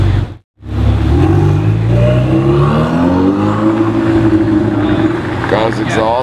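A blue carbon Pista sports car with its exhaust open roars loudly and close, the engine revving and climbing in pitch in a sustained, rising drone, with a voice briefly heard at the end.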